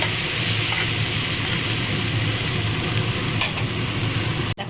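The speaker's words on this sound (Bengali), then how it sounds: "যে পেঁয়াজটা আমি নুন মাখিয়ে রেখেছিলাম সেটা একটু চেপে নিয়ে হালকা ভেজে নিচ্ছি।" Salted, squeezed onions fry lightly in a pan, giving a steady soft sizzle with faint stirring scrapes, alone and fairly quiet.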